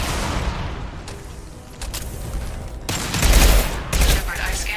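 Combat in the sci-fi shooter Mass Effect brings a concussive shot and a loud burst of gunfire, with sharp booms and rapid volleys in a short, intense flurry.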